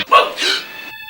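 A dog in a Nollywood film scene gives one short, close yip or bark, followed by a brief whimpering tail.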